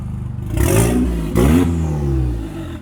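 A modified Volkswagen Polo GTI engine revs hard and loud, climbing twice in sharp surges with a deep, rasping exhaust note that falls back to a rumbling idle between bursts.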